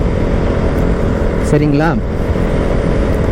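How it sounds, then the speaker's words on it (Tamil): A KTM Duke 200 motorcycle engine runs just after a cold start, giving a steady low rumble throughout while someone speaks briefly over it. "கோல்ட் ஸ்டார்ட்டில் வண்டி எடுத்துகிட்டு போனீங்கன்னா இந்த மாதிரி பர்றன்னு போகும்"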